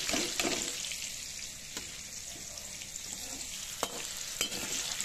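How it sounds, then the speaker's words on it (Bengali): Potatoes frying in oil in a pan, a soft, steady sizzle at low level with occasional small pops and clicks, no talking. "আলুগুলো একটু ভালো করে লাল করে ভাজতে হবে।"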